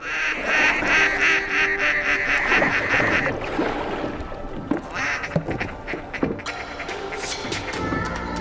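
Ducks and geese call at a pond during a duck hunt: a steady loud chorus of quacks and honks at first, thinning into scattered calls and clicks over a continuous background.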